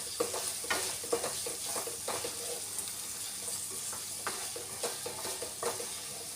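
Ivy gourd pieces coated in chilli powder fry in a pan with a soft, steady sizzle. Irregular scraping clatters from stirring cut in repeatedly, fairly close and moderately quiet, with no talking.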